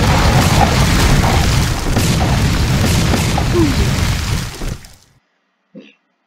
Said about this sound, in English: now let's come over here and let's do breach charge.